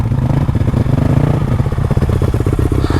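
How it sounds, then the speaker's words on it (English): A big-bore two-stroke motorcycle engine idles close by, a loud, steady, rattly ring-a-ding with a fast uneven popping rhythm and metallic clatter, heard alone. "There's nothing better than the ring-a-ding-ding of a big bore two-stroke"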